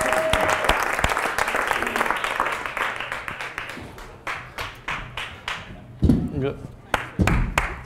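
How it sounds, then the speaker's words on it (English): Crowd applauding a volunteer coming up on stage at a live show, loud dense clapping that thins into a handful of sparse, distinct claps, with voices talking and a brief cheer between them. "Give her a round of applause for coming up."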